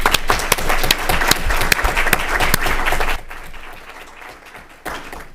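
Attendees at a city council meeting applaud to honor a retiring sheriff's captain, with loud, close clapping and sharp individual claps that stop abruptly after about three seconds, leaving room noise and a few stray claps.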